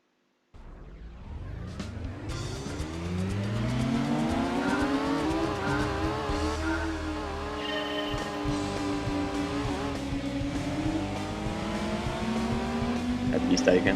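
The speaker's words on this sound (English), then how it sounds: "Little Honda cars driving through Rome." Honda cars race around the Rome Circuit in Gran Turismo 2, a loud engine whine climbing through gears with rising and falling pitch sweeps, steady and close throughout; a voice talks intermittently over it.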